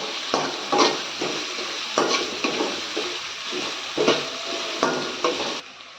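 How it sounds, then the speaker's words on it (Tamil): Onions with green chilies frying in a pan for macaroni, a continuous sizzle broken by regular scraping stirs of a spatula against the pan, close and clear with no speech. "இப்போ வெங்காயம் நல்லா ஃப்ரை ஆகிடுச்சு."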